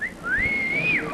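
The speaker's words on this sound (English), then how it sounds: "You think I'm whistling at him, right?" A single short whistled note from a man on a quiz show, sliding up then falling away, clear and close over a faint room hum.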